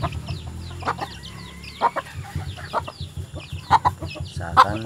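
Newly caught wild junglefowl, still untamed, cluck and call in short bursts, with sharper squawks breaking through near the end over a faint background of other birds.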